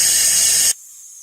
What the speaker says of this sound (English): The drill I'm using is a Gardner Denver FL83 rock drill.